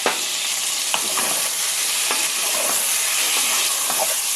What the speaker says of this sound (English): We're just going to cook the tomato a little bit